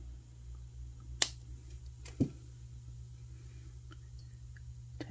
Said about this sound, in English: I take my cutters and cut off my extra wire.